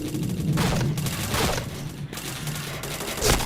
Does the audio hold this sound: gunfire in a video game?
yes